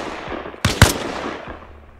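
Two sharp, loud gunshots in Arma Reforger fired into a downed enemy's body, a quick close pair about a fifth of a second apart, then fading echo, with no talk.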